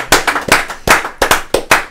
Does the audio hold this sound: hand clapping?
yes